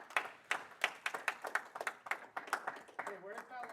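Scattered audience claps for event sponsors at a tech talk, a small room of individual hand claps with sparse, uneven rhythm and voices talking faintly underneath.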